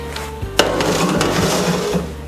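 Crispy fried breaded eggplant slices handled in a home kitchen give a few sharp close taps and light clattering knocks, with one louder clack partway through against a faint background sizzle.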